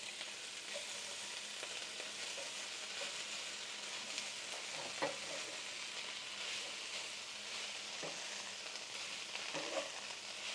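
Garlic and onion sautéing in a pan for a low-carb meal, a steady broad sizzle throughout with a few sharp scrape or stir clicks at intervals, fairly quiet and without talk.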